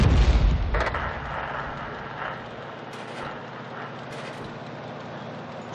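A tank cannon fires in World of Tanks, a single heavy boom at the start that decays into rumble and faint mechanical clatter, with a couple of sharp distant cracks later.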